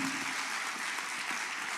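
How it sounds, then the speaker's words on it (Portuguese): Sustained applause from a church congregation fills the space, an even, continuous roar of many hands clapping with a little speech faintly mixed in. "Pode aplaudir."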